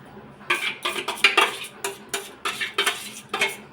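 A spoon mixes whisked yogurt into lukewarm milk in a bowl while making mishti doi, giving a series of sharp, close metallic clinks and scrapes against the vessel in an uneven stirring rhythm.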